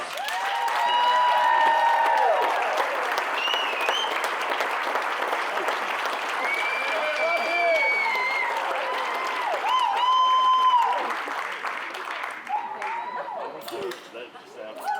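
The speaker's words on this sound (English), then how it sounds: "stand so we can all give you a round of applause" Wedding guests applaud the newlywed couple with sustained, loud clapping that fills the room, with cheers and voices mixed in, fading slightly near the end.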